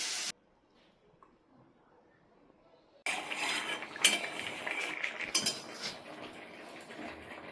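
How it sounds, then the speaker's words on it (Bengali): Potatoes tossed in spice masala in a pan, heard as metal spoon scraping and clinking against cookware, close up, after a near-silent start; a quick burst at the beginning before a few seconds of quiet. "মশলার মধ্যে আলুগুলো দিয়ে ভালো করে একটু কষিয়ে নেবো"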